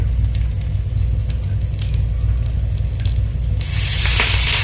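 Cumin, mustard seeds, dried red chilies and asafoetida crackle and sizzle in hot oil, with scattered pops over a low hum, then the frying swells into a loud, steady hiss.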